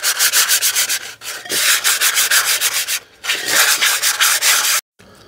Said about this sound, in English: So you've just sort of sanded the inside of that.